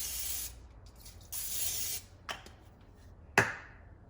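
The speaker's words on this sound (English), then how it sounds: "And then I'm gonna spray a little bit more." Two sharp hissing bursts of cooking spray hit a pan, each about half a second long, followed by quieter sizzle and a brief clatter near the end.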